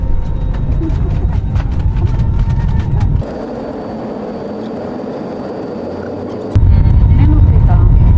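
An airliner accelerates down the runway for takeoff, heard from inside the cabin as a loud, steady engine roar and rumble that drops briefly in level and then surges back up.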